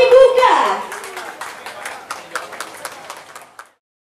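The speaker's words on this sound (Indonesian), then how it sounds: "Mulai berikan tepuk tangannya dengan ini." Guests clapping at the opening ceremony of a Public Gold Indonesia branch office in Banjarbaru, a short burst of applause that follows a voice and a sounded tone, then thins to scattered claps before stopping.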